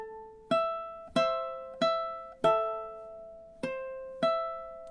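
Fingerpicked ukulele playing a measure of the Luigi's Mansion main theme, a bass line woven into the melody: six evenly spaced plucked notes, each ringing and decaying, close and alone.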